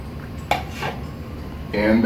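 Ingredients such as egg and flour clatter into a mixing bowl while baking Hermits cookies, with a sharp clink of utensil on dish followed by louder scraping and knocking near the end, under faint background voice.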